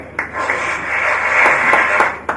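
Audience applause for participants at the NSE 2019 X-Kathon, a moderate, continuous patter of many clapping hands with a few sharper individual claps standing out, fairly close and without talk.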